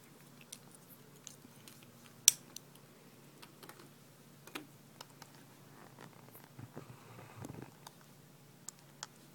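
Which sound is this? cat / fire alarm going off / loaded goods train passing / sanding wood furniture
cat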